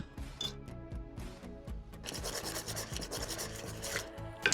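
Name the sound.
whisking brown sugar, cinnamon, ginger and raisins in a bowl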